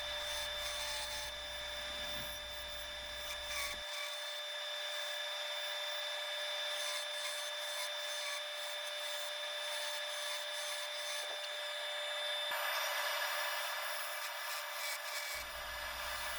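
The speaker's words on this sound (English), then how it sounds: "it wasn't cutting well, so I had to switch to a fresh gouge" A fresh gouge cuts Siberian elm end grain on a wood lathe, throwing off dust. The scraping, whirring cut runs steadily and close for the whole stretch, with no talking.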